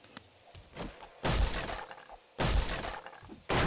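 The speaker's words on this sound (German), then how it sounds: "Da höre ich's klirren." Glass shatters with sharp clinking crashes in 7 Days to Die, three separate loud breaking bursts spaced about a second apart, standing alone without talk.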